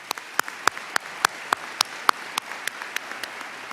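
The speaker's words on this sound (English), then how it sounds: "Can we get one round of applause?" Scattered hand clapping at an academic awards ceremony, a handful of people applauding with distinct individual claps at a steady, moderate pace, fairly close and moderately loud with no voices.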